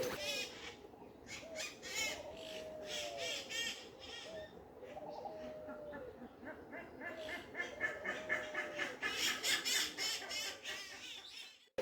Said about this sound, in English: And now I'm coming to the first Turaco of the day.